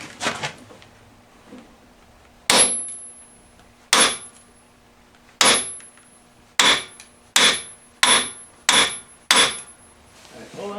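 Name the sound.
hammer tapping on Bobcat S185 front axle part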